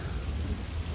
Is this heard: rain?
yes